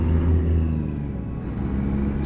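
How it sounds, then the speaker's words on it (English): Truck engine in American Truck Simulator, a steady low rumbling drone with a faint whir on top, fairly loud and continuous, slightly easing midway. "I might have to turn down this engine audio because it might be a little bit loud"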